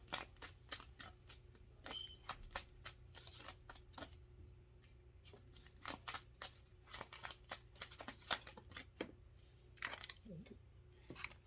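Tarot cards are shuffled by hand in a quiet room, a long run of crisp riffling snaps and taps in uneven bursts, close and fairly faint.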